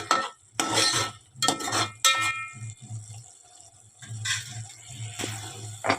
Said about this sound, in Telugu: ఇలా మధ్య మధ్యలో కలుపుకుంటూ ఈ టొమాటో ప్యూరీని మంచిగా ఉడికించుకోవాలి